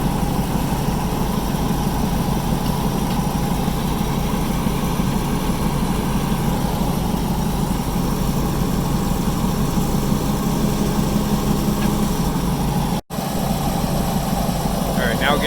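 Backhoe engine running steadily at close range, a loud continuous low diesel rumble and drone that holds throughout with only a brief dropout near the end.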